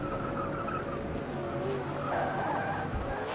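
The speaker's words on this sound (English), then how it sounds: "I hear a lot of squealing tires" Historic Trans Am race cars in a racing video game at VIR screech their tires through a corner, a steady, moderately loud squeal layered over engine drone, with faint commentary murmuring underneath.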